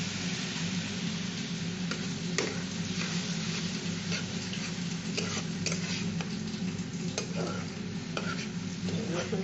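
Garlic sautéing in a pan with a little water, a steady close sizzle under repeated spatula stirring and light scraping clicks, continuous throughout.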